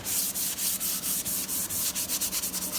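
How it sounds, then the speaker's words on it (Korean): Wood surface being hand-sanded with sandpaper ahead of a natural oil finish: a steady run of close, brisk scratching strokes, about a dozen, quickening toward the end, with no talking. "일단 사포 간단하게 사포만 쳐서 이런 식으로 해주시면 돼요."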